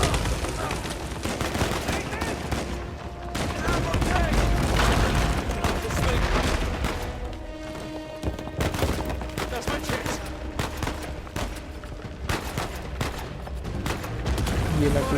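Gunfire in the video game Uncharted 4: A Thief's End, with dense bursts of rapid shots and booms crackling continuously amid loud game action, and a voice talking over parts of it.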